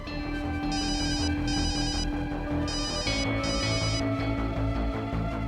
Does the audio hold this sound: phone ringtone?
yes